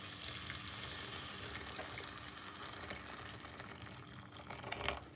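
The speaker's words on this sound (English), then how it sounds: "I'm gonna add some water to this." Boiling water is poured into a pot of rice and mackerel in a home kitchen, giving a faint, steady splashing and hissing pour that continues for several seconds.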